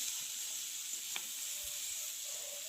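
A vegetable fry for dinner cooks in a pan, giving a soft, even sizzle that holds steady throughout, fairly quiet and close, with a faint single tap and no voices.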